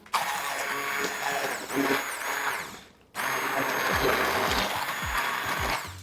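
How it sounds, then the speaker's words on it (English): A blender whirs steadily as it purees vegetable soup, with a loud, continuous motor whine that cuts out briefly near the middle and then restarts. "I think we've got it blended to a good consistency"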